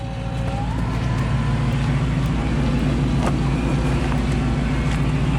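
A Lexus stuck in campsite mud drones with a steady, loud engine hum, the low rumble holding evenly as the throttle is gently applied throughout.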